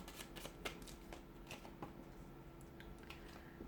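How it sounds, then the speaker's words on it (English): Tarot cards being shuffled, a soft riffling and slapping of paper that keeps going steadily at close range with a low hum underneath. "give the cards a shuffle"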